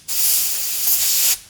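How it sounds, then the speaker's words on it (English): Compressed air blown through the passageways of a cleaned carburetor during a rebuild, a loud, steady, close hiss lasting over a second, then cut off abruptly, with no talking. "Hit it with a little compressed air."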